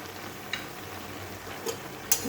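Prawns cooking with sweet pumpkin stems being turned over in a pan, with a few sparse, soft scrapes and taps over a quiet, steady simmer. No one talks.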